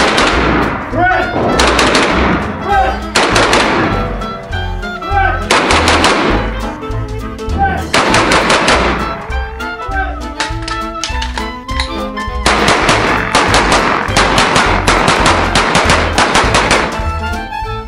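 Repeated shots from a Smith and Wesson M&P 15/22 pistol on an outdoor range, loud sharp reports in quick strings and pauses.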